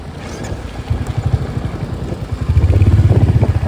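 A motorcycle engine hums low and steady while riding on the roads around Araku, rising louder and rougher toward the end with a pulsing throb, close to the listener.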